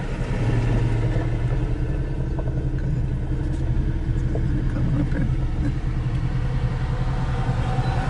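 Off-road vehicles sit idling in a traffic jam on Imogene Pass, a steady low engine rumble close by with faint mechanical clatter throughout.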